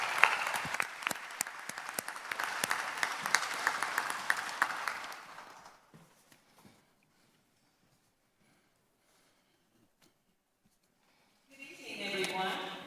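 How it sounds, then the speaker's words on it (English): An audience at an evening mayoral forum applauds for about six seconds, a dense wash of clapping that fades into near silence, followed by a brief swell of sound at the very end. "Will you clap your hands as she comes?"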